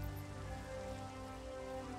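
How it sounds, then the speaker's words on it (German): Steady rain falls in the video game Minecraft, a soft continuous patter with no talk over it. "Mann, jetzt ist Regen hier"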